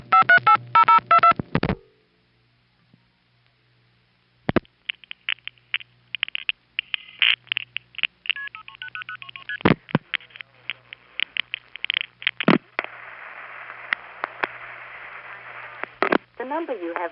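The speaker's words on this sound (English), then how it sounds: "then you hear Tremont Tandem in its revertive pulse conversation with the panel office we're calling" A 1977 recording of telephone switching equipment plays bursts of tones, then falls silent, then returns as rapid clicking and buzzing revertive pulses from a panel office exchange answering a tandem. The pulses come in irregular trains over a faint background hum.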